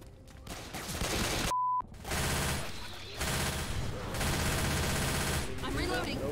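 Rapid bursts of automatic gunfire in Left 4 Dead 2 as players shoot the pilot, loud sustained fusillades broken by a brief gap, with game voices mixed in.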